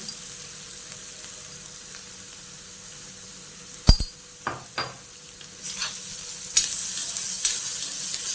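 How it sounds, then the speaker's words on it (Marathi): Ground green chili and garlic dropped into a hot pan for a spicy amaranth-leaf dish. A sharp metallic clink and a few knocks come first, then a sizzle that builds and holds, close, with no voices. "आता याच्यात आपण थोडंसं ती वाटलेली हिरवी मिरची हिरवी मिरची लसूण टाकायचा याच्यात लगेच थोडंसं मीठ पण घालून घ्यायचं"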